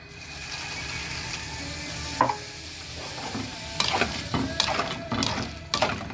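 Water poured into a pan of butter-fried pasta, hissing and sizzling steadily with scraping stirs and clinks of a utensil against the pan.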